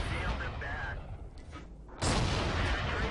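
A Pzkpfw 38(t) tank gun fires in a tank battle game, one loud booming shot bursting out after a brief lull, over a dense rumble of battle noise, with someone talking.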